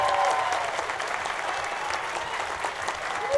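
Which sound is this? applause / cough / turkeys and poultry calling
applause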